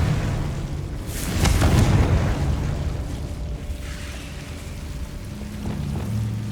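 A Confringo spell blast in Hogwarts Legacy bursts as a muffled, rumbling explosion, followed by a low roar that fades into steady ambient background.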